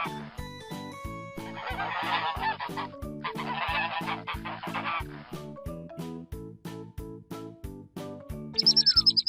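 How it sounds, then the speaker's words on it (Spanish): A goose honks in repeated nasal calls, loud and close, over a steady rhythmic musical backing, with a brief burst of high chirping near the end. "Ganso."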